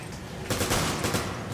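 Rapid gunfire and blasts from grenade explosions in the video game Resident Evil 5, a dense burst of shots and booms that starts abruptly partway in and keeps rolling loud to the end.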